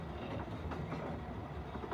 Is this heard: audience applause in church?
no